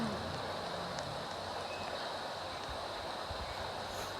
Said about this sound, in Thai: ถึงรถไฟ ทุกคนน่าจะได้ยินไหมไม่รู้นะฮะ